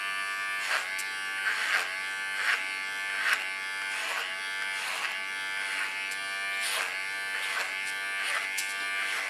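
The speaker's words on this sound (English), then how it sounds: "I love working clipper over comb," An electric hair clipper cuts hair over a comb, a steady close buzz that swells briefly in a loose, roughly once-a-second rhythm as each pass is made, with no talking.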